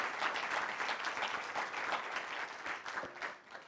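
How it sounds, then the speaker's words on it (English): A crowd at a UC Berkeley speak-out against mass incarceration applauds a presenter, with sustained, moderately loud clapping that swells and eases slightly before fading near the end. "let's just give one of our presenters a round of applause"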